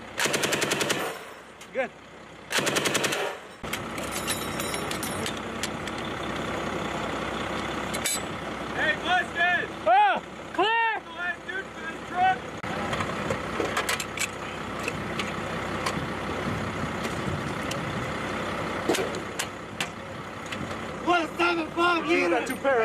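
Machine gun bursts during a U.S. Marines live-fire exercise in Sweden, loud, sharp reports over a steady outdoor rumble, with shouted commands from people nearby.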